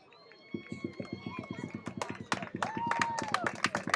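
A large evening crowd at a Lake Myrtle playoff soccer match applauds a substituted player; a steady run of fairly quick claps swells and thickens, with an announcer talking over it.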